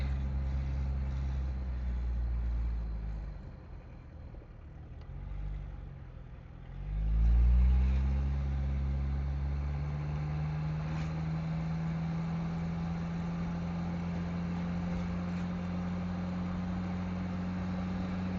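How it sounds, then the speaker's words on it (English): A 1992 turbo diesel truck locked in second gear climbing a hill, a heavy low engine drone that dips, surges briefly, then settles into a steady pulling hum, loud and continuous with no voices. "So it locks it in second, and then we're gonna go up this hill and see what we can get our EGTs up to."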